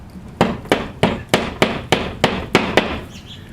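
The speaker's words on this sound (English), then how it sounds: "so that when you push it in, you have to hammer it in the rest of the way" Eight sharp, evenly spaced hammer strikes drive a plastic wall anchor into a wall, close and loud, each a crisp knock with a short ring and no talking.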